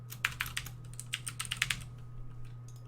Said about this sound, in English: Now you got to be kind of careful typing these in